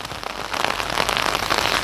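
Rain patters steadily on an umbrella overhead, a dense, close hiss of drops drumming on the fabric with no voices.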